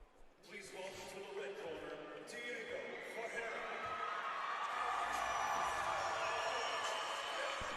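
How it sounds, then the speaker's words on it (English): Crowd at a submission grappling event cheering as fighter Carlos Diego Ferreira walks to the stage, a roar that swells and holds steady behind a commentator's voice. "as you might be able to hear from the crowd, one of the main men that they are here to see is now walking to the stage"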